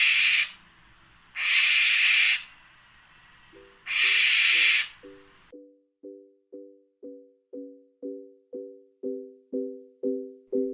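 Owl calling: three long breathy hissing screeches, then a run of about fourteen short, evenly spaced hooting notes that grow steadily louder, with no other sound around them.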